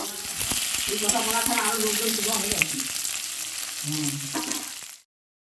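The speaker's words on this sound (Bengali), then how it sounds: "এরপরে কেটে রাখা পনিরগুলো আমি সাদা তেলে ভেজে নেব" Paneer pieces fry in white oil in a wok, a close, bright sizzle with brief stirring clatter and light background music, cutting off abruptly at the end.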